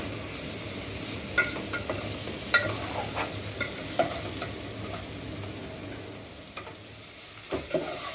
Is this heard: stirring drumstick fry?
yes